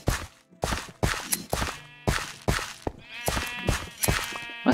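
Sheep bleat repeatedly in Minecraft, several loud calls following one another with short gaps and occasional thuds between them, no talking over them.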